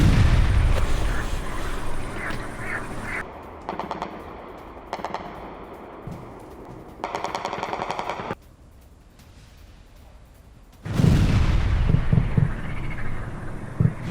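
Russian missile and artillery strikes on Kyiv: repeated bursts of blasts and rapid fire in the night, some loud and close, others more distant, separated by short quiet gaps, with no talk.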